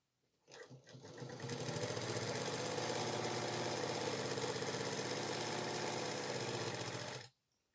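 A sewing machine stitches a folded band on a 40-inch blouse, starting up and then running in one fast, steady, close burr for about six seconds before stopping abruptly, with no talking.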